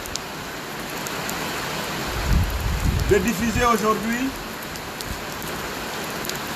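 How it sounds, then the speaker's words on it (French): Heavy rain pours steadily as a broad wash of noise, with someone speaking French over it. "Il fait une grosse pluie ici"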